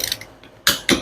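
Wrench tightening bolts on a tie-rod cylinder, a couple of soft clicks followed by two sharp, loud ratcheting bursts close by.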